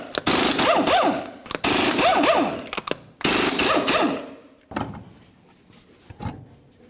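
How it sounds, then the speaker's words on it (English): Six 21mm lug nuts being removed from a Nissan Titan front wheel with a loud impact wrench, heard as three long hammering bursts close by, then quieter clanks and rattles as the nuts come off. "continue on by removing all 6 of your 21mm lug nuts and then the wheel"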